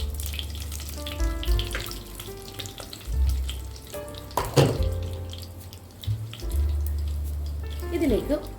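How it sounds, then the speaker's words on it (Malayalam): Cardamom, cloves, a broken bay leaf, cumin and a piece of cinnamon fry in hot oil, a soft sizzle that carries on under clinks and other kitchen sounds. "2 ഏലം, 4 ഗ്രാമ്പൂ, ഒരു ബൈ ലീഫ് കഷ്ണങ്ങളാക്കിയത്, 1 ടീസ്പൂൺ ചെറിയ ജീരകം ഒന്ന് മൂപ്പിച്ചെടുക്കാം"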